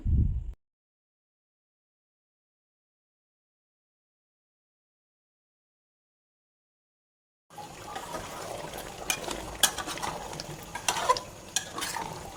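Beef and potato curry is stirred in a pot with close, wet scraping and soft sizzling. It begins after a short thud and a long silence, then keeps going in irregular strokes.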